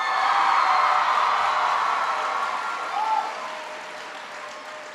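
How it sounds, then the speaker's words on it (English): High school students applauding at a back-to-school speech, a loud, sustained wave of clapping from a large crowd in a hall that gradually fades toward the end. "Give Kelly a big round of applause."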